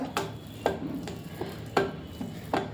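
Sweet potato being mashed and mixed in a bowl for a sweet dish, with a spoon scraping and knocking against the bowl in several sharp, evenly spaced clinks over a low background, with no talk.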